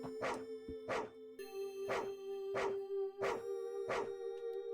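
A dog in a house-set video game barks six times, evenly spaced, each bark loud and clear. A steady electronic drone hums underneath, and no one talks.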